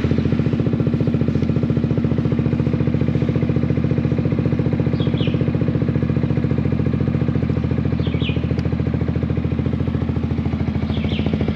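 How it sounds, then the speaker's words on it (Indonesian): A 2023 Yamaha XMAX Connected scooter with an aftermarket Aero exhaust idles steadily with a deep, throbbing, bassy exhaust pulse, close and constant throughout. "Sekalian kalian dengar suara knalpot Aero exhaust-nya ya."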